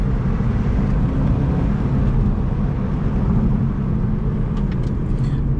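Inside a Subaru WRX STI driving in Japan, steady loud engine roar and road noise carry through acceleration and a shift into second gear, with no talking.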